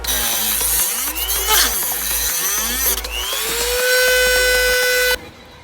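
A Dremel rotary tool cuts through an AC line on a Honda Civic EG, a loud, close, high whine whose pitch rises and falls as it bites into the metal, then stops abruptly near the end.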